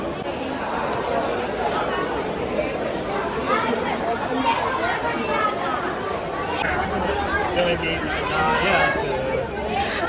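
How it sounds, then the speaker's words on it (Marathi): Dense crowd chatter fills a busy Indian railway station while passengers wait for a delayed train. The babble of many voices runs steadily and fairly loud, with no single voice standing out. "आणि गर्दी दाखवते स्टेशनवर"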